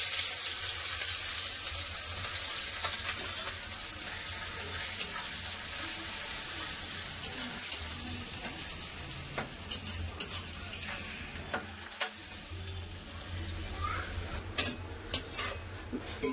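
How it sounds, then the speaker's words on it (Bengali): Onions frying in hot oil give a steady, close sizzle that runs the whole way through, dotted with small clicks and scrapes from stirring, with no voices. "গরম হয়ে গেছে, পেঁয়াজগুলো ভেজে নেব।"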